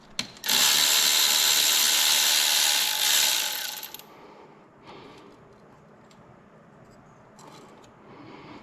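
A ratchet wrench clicks rapidly and loudly near a car's exhaust manifold for several seconds, then softer intermittent clicks and fiddling follow.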